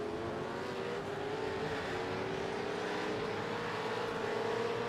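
V8 supercar engine in a racing sim at Le Mans, a steady droning roar with a slowly rising pitch, heard close and continuous without a break.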